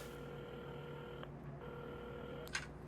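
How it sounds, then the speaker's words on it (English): A telephone is dialed in the repair game Assemble With Care, giving a few soft electronic tones over a steady background hum, with a brief click near the end. "at the counter, Carmen had started dialing the phone"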